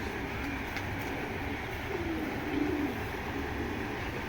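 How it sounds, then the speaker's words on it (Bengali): A racing pigeon is let go. Soft low cooing drifts in and out over a steady background hum, and a faint flutter swells briefly in the middle. "তো ছেড়ে দেখাই কবুতরটা।"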